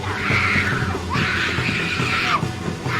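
A woman screams and thrashes in a tense 2016 Korean horror film scene; two long, loud, wailing shrieks rise and fall back to back, with a shorter cry starting at the end.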